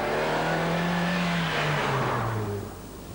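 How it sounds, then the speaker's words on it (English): A 1991 Nissan Sunny on the move gives a steady blend of tyre road roar, wind rush and engine drone, with the engine note gliding down as it eases off; no voices. "There's quite a lot of road noise coming back through the structure of the car"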